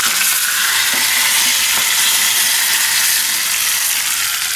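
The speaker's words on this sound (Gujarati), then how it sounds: "આમાં આપણે નાખી દેવું લીમડો" Curry leaves hit hot oil in a Gujarati tempering for bottle gourd chutney, making a steady, bright, close sizzling hiss that lasts without pause.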